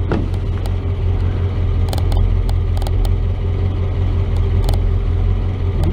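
A Chevrolet S10 pickup truck drives along with a steady, loud engine rumble and road noise, with brief mechanical clicks from the shift linkage breaking in now and then.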